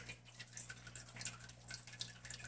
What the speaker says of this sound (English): just dip it in some water.